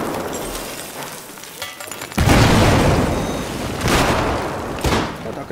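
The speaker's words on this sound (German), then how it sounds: "Da ist eine Granate drauf." Grenade explosion in Battlefield 4 Conquest on PS4, a loud booming blast that bursts in partway through and rumbles on, followed by two weaker thumps amid battle noise.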